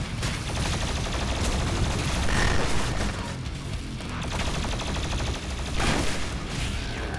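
Incoming missiles rain down in the Doom Eternal video game, a dense, continuous barrage of loud explosive booms and gunfire with surging peaks and no pauses.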